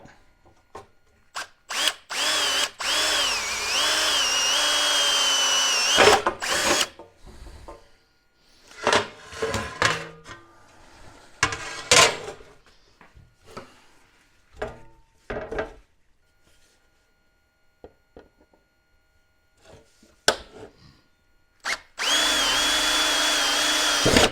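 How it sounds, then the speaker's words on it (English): A power drill bores pilot holes in an air dam on a Toyota Land Cruiser 80 Series, in two long, loud whining bursts, with shorter spurts and clunks of handling in between. "I've marked where the hole's got to go, and I'm just going to pilot drill them out."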